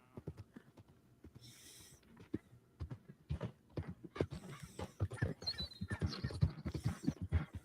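Horse hooves clip-clopping in the Western game Red Dead Redemption 2 as a rider heads back to camp, an uneven run of thuds and clops at moderate level, with rustling and faint ambient game sounds around them.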